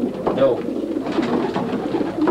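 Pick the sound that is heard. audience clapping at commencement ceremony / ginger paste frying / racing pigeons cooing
racing pigeons cooing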